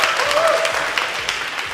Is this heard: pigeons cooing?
no